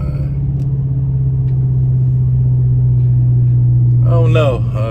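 A 2021 Dodge Charger Scatpack fitted with 5-inch Carven exhaust tips holds a loud, steady low droning rumble close by, and a voice comes in over it toward the end.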